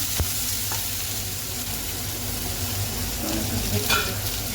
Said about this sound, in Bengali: আলুটা ভাজা দিয়েছি।